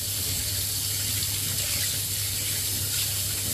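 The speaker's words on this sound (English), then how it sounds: "why is my tap water so hot?" Tap water runs into a sink in a steady, loud, unbroken gush for the whole stretch, with no talking over it.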